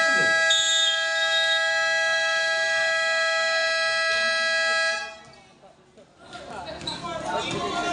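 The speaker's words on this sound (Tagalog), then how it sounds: "Wait for the buzzer." A long, loud, steady horn-like blare marks the end of a basketball semifinal game and stops abruptly at about five seconds, giving way to crowd noise and shouting in the gym.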